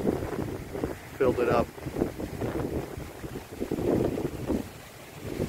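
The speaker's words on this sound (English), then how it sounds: "Very windy conditions." Heavy, gusty wind blasts against the microphone in a low buffeting roar that swells and eases with each gust, while someone speaks briefly over it.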